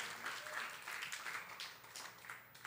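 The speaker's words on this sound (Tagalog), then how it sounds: "Malakas na palakpak sa Panginoon." Congregation applauding at a church midweek service, a fairly quiet, steady wash of clapping throughout with faint voices mixed in.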